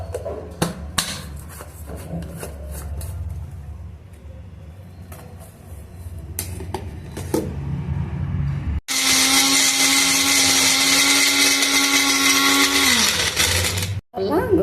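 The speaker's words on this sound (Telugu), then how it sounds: "ఇప్పుడు గ్రైండ్ చేసేద్దాం" A mixer grinder roars loudly as it grinds small pieces of fresh coconut, preceded by knocking and clattering as pieces drop into the jar, then a steady high whine that cuts off abruptly.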